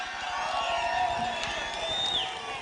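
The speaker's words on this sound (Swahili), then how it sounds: "Mkaribisheni kwa makofi." A large crowd at an outdoor political rally in Runyenjes, Embu, Kenya cheers and applauds a welcomed guest: a steady, fairly distant roar with shrill whistle tones rising above it and faint voices mixed in.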